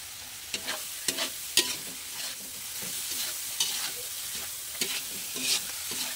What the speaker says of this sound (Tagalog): Gigisahin lang natin ito ng mabuti. Tapos, ilagay na natin ang hipon.